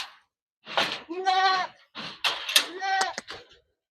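Beetal goats on a farm bleat in two loud, wavering calls close by, separated by a short pause, with a brief knock or clatter near the end.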